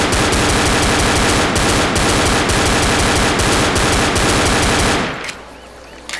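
Rapid pistol fire in the video game Left 4 Dead, a loud dense stream of close gunshots that keeps up for about five seconds and then stops abruptly, leaving a quieter background.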